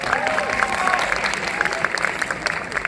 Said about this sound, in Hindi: एक जोरदार ताली हो जाए प्रियल मैम के लिए।